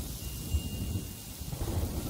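Rain and thunder in the video game Yonder: The Cloud Catcher Chronicles: a steady hiss of rainfall over a deep, rolling low rumble of thunder, heard alone with no talk.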